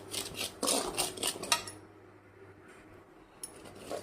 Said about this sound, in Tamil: ஒரு வானொலியில் ட்ரை ரோஸ்ட்டாக ரவாயை நல்லா வறுத்துக்கிடணும்